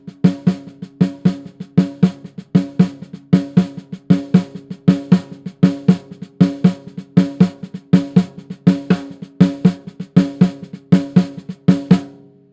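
Close, loud drum groove repeating four-note figures, with quiet strokes in between and a strong accented hit on the fourth note. The pattern cycles in an even, steady rhythm, played alone with no talking.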